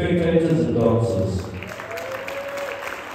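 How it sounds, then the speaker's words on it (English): Spectators at an adult Latin American dance championship give a round of applause, loud and steady at first, then thinning into scattered claps with background voices. "I think you all deserve a round of applause for all the spectators and dancers"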